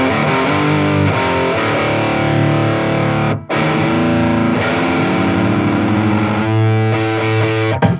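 Distorted electric guitar played through a Line 6 Catalyst 60W combo amp's pitch-shifting harmony effect, a parallel fifth stacked over each note, sustained and loud with a brief gap midway.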